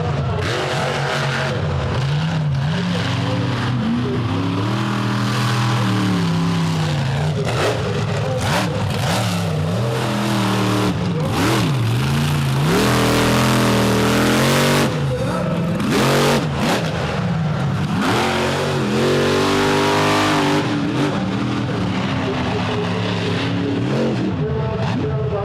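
Monster truck engines roar and rev hard on an arena track at a Charlotte, NC show. Long, loud, rising and falling pitch sweeps continue without a break, with crowd and arena noise underneath.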